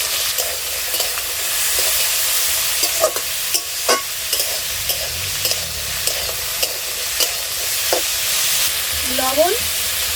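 Beans and carrots fry in white oil with a little ghee in a wok, a close, constant sizzle punctuated by sharp clicks and scrapes of a spatula stirring every second or so.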